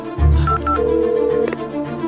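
A telephone number is being keyed in: a few short, clean dial tones beep in quick succession against a low background hum, with no voices.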